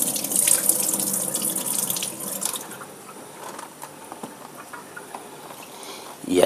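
Water pours and splashes into a kitchen sink as soaked glass noodles are drained for homemade tofu noodles, a strong gushing stream at first that thins to lighter patter and drips.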